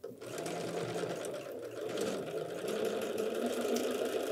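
A sewing machine stitches a napkin border with white thread, running continuously at a steady, fairly quiet whir for the whole few seconds.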